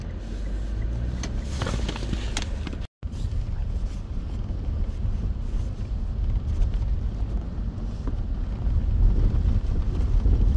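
Wind buffets the microphone in a steady, heavy rumble with a loud roar throughout and one brief dropout.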